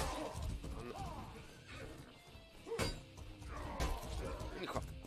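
A horse neighs after a hard slap on its rump. Several loud whinnies rise and fall over about five seconds, mixed with a few sharp knocks and faint voices nearby.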